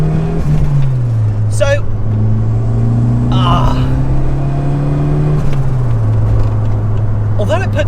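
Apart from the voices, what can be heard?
Ford Fiesta RS Turbo MK3 accelerating on a pull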